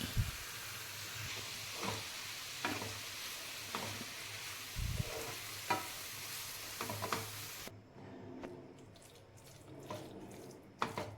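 A spoon stirs grated radish with salt, turmeric, chili and coriander powder in a pan, giving soft repeated scraping strokes over a faint sizzle, with a quieter stretch toward the end.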